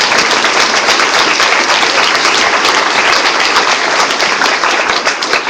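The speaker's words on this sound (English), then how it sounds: "Let's give them a round of applause." Steady, loud applause from a crowd honoring veterans at a senators town hall, dense continuous clapping that holds for several seconds before easing slightly at the end.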